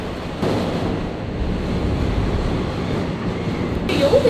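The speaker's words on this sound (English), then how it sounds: "It's very windy." Strong wind in Hong Kong buffets the microphone in a steady, roaring rush, loud and unbroken throughout.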